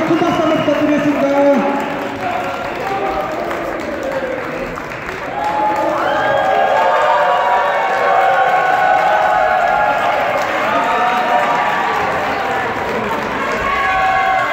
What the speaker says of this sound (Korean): 다시 한번 큰 박수 한번 부탁드리겠습니다